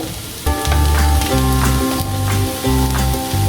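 Chopped onions fry for an onion kachori filling, a steady, close sizzle that holds loud and even throughout, with no talking.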